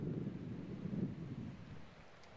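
Steady wind blowing across an open golf course at a seaside tournament in Guadeloupe, a low continuous rushing roar buffeting the microphone, no voices.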